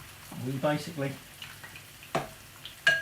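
German potato pancakes (Reibekuchen) fry in a pan with a soft, crackling sizzle under a person talking, with a few brighter pops breaking through.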